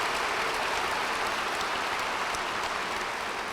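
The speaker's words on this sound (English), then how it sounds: "give her a round of applause" Steady broadband applause from an audience at a distinguished lecture event greeting Academy Award winner Mary Steenburgen, dense and even throughout with no voices.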